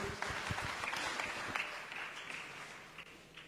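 A church congregation at a Swahili-language service applauds, with scattered claps and shrill ululation rising over a steady hum of crowd noise, moderately distant and fading slightly toward the end.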